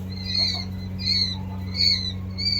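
A small Texas quail, a farm-raised poultry bird, calls in a repeated series of high, clear whistled notes at a steady rhythm, close and fairly loud over a low constant hum.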